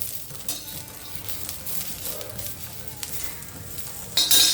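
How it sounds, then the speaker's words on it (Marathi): Green chillies roast in a pan for a spicy Maharashtrian chilli pickle, sizzling and crackling steadily up close, with stirring scrapes and light clinks of a utensil against the pan, louder toward the end. "म्हणून हे छानपैकी लाल पर्यंत भाजून घ्यायचे थोडा वेळ लागतो"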